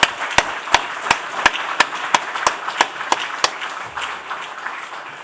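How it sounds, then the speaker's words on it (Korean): A church congregation claps together at a Korean church dedication service, about a dozen sharp, evenly spaced claps ringing in a reverberant hall before fading into softer scattered sound. "우리 정영구 목사와 이 교회 교인들을 격려하고 감사하는 뜻에 우리 박수 한번 합시다"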